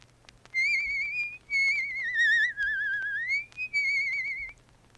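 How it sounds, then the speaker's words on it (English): A person whistles a cheerful melody in four clear, sustained phrases that slide and waver in pitch, close and alone over a faint low hum. "And very young King Gerard whistled happily ever after"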